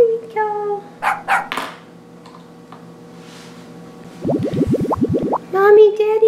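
A cartoon puppy lets out short, high-pitched yips at the start and again near the end, with voices and light clattering sounds in between.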